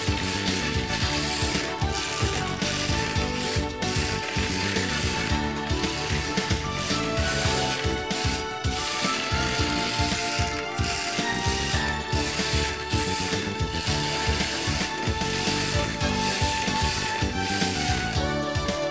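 A small Toyota Sprinter Trueno AE86 radio-controlled drift car runs on a balcony, its tiny motor and gears giving a steady, fast whirring and ratcheting buzz close by with little variation.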